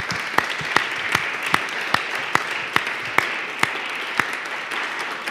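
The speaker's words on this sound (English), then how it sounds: "So let's just give Sharice and our team a round of applause." Audience applause for the Millennial Action Project team and Sharice at a political event: a fairly steady wash of clapping with sharp individual claps punctuating it at regular intervals, moderately loud throughout, with no voices.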